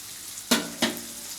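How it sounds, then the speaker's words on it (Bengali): Chopped carrots and potatoes frying in hot oil for flattened rice pulao; a soft background sizzle with two quick, close scraping stirs against the pan. "এর সাথে আমি দিয়ে দিলাম গাজর কুচি ছোটো ছোটো করে"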